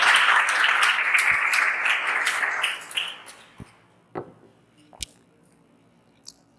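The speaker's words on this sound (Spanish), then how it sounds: "Denle un fuerte aplauso al Señor" Church congregation claps loudly for about three seconds, the applause then dying away into scattered single claps and taps in a quiet room.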